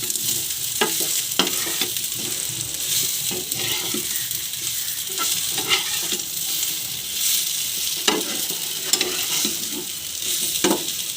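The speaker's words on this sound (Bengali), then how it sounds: "দিয়ে পেঁয়াজের সঙ্গে আলুরে ভালো করে এইভাবে নেড়ে চেড়ে পেঁয়াজ আলুর গায়ে লাগিয়ে দেব।" Potatoes stirred together with onions as they fry in a pan, a steady close sizzle with scraping stir strokes at irregular intervals, no voices.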